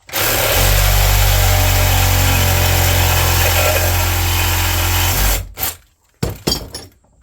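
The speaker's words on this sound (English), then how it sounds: "a grinder. It's gonna really cut off a lot of the brass too." An angle grinder slices through scrap brass, a loud continuous abrasive roar with a steady low motor hum lasting about five seconds, then cutting off abruptly into a few short clanks and rattles as the piece is handled.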